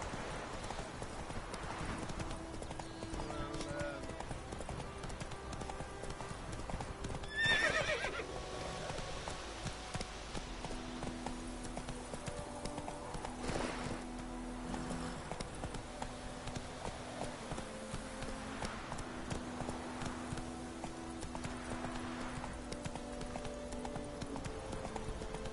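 Roach, a horse in The Witcher 3, gallops with steady, rapid clip-clop hoofbeats at moderate loudness, with a brief whinny partway through, under a layer of game music and ambience.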